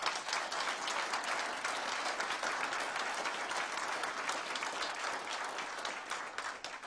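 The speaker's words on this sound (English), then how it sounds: "I heard someone, a round of applause for Karen" A round of applause from the audience at Hamilton's 2018 State of the City Address, sustained, even clapping from a large crowd, moderately distant and fairly quiet, easing off slightly near the end.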